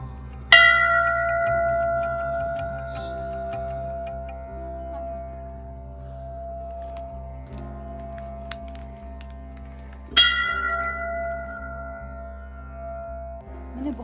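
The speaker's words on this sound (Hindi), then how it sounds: "चल तुम घंटी बजाओ पहले।" Temple bell on a hillside trek shrine rung twice with long ringing decay between strikes, over steady background hum and distant ambient noise.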